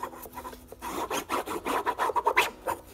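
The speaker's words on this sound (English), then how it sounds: "Form the groove with your bone folder, and then work your way down on the other side." A bone folder burnishing a paper signature into the groove of a punching cradle, making close, quick rasping rub strokes that speed up into a rapid back-and-forth scraping.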